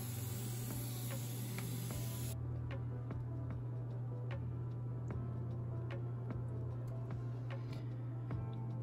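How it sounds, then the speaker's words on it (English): A hand pump sprayer mists a frog enclosure with a steady fine hiss for about two seconds, then stops, leaving a constant low hum and scattered light ticks. "I'm just gonna give the whole thing a spray down to keep the humidity up"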